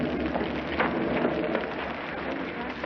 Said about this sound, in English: If it's raining worse, it's a sign it's nearly over.